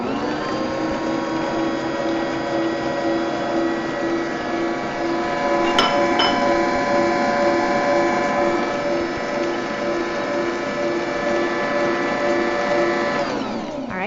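A Bosch stand mixer churns cookie dough with whole milk, giving a steady, close mechanical whir with a constant gear hum and a brief clack partway through.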